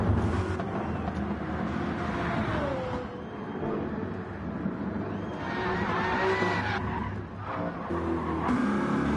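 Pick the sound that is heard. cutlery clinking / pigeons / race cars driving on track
race cars driving on track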